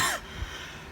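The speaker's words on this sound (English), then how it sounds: "Oh, sorry, I just had a cough." A single short cough, close and fairly loud at the start, followed by quiet room tone.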